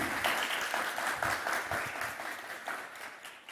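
Applause from a church congregation honouring a girl's grandparents, a dense steady patter of many hands clapping that fills the space and tapers slightly toward the end, with no talk over it.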